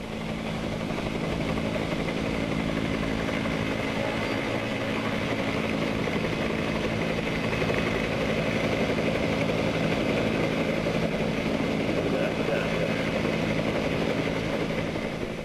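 A steady, loud helicopter engine and rotor drone as the aircraft climbs toward a 12,000-foot parachute jump altitude over Cornwall, continuous and unchanging with no talk.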